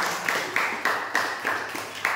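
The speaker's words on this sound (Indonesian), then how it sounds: "Oke, tepuk tangan." Classroom applause after a group answers questions on making fried rice, a few hands clapping in a quick uneven rhythm with about eight sharp claps, close and moderately loud.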